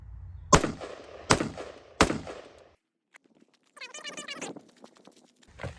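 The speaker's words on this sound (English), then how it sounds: "Let's shoot it again." Three sharp, loud rifle shots fired about a second apart at a rifle carrying a ROMEO7 sight, each with a short echoing tail, followed by a pause and faint rustling and clattering afterward.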